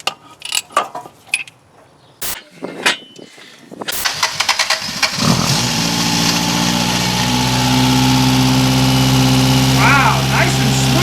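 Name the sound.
1978 Toyota Corolla engine running with Holley Sniper EFI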